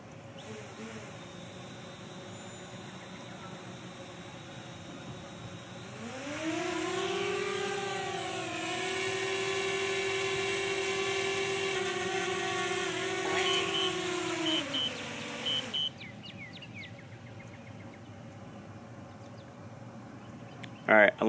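A DJI Spark drone spinning up and taking off, with a quiet room hum giving way to a loud, rising high-pitched propeller whine that holds steady for several seconds, then cuts out, leaving faint clicks.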